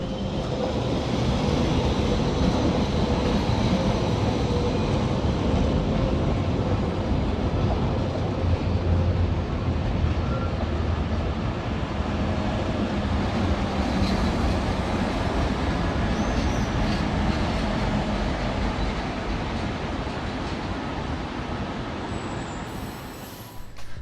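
Continuous rumbling and clatter of a panoramic Belle Époque-style train rolling along rails, steady and loud throughout with a broad roar, easing slightly at the very end.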